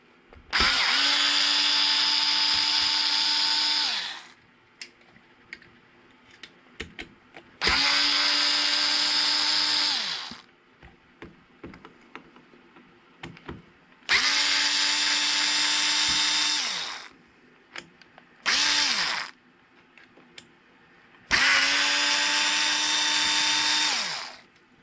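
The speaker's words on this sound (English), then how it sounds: "the next thing you do will be to take the 4 screws out of the bottom of the" Power drill removing the four screws from the bottom skid plate of a Traxxas X-Maxx RC truck, five close bursts of steady whirring separated by pauses with small clicks and handling noises.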